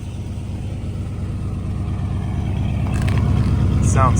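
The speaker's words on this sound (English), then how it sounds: "Sounds so good idling." A 1971 Dodge Super Bee idles on a road test, its engine giving a loud, steady low rumble with an even pulsing beat that swells slightly near the end, while a voice speaks briefly over it.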